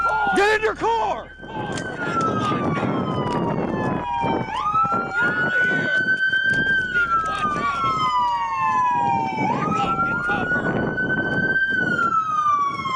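Police sirens wailing loudly nearby, rising and falling tones overlapping, with shouting voices and vehicle noise underneath.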